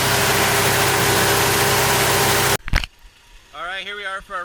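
A 1973 Ford F100 pickup's V8 idles smoothly around 700-800 rpm with a steady, dense rumble for a couple of seconds, then cuts away to someone talking.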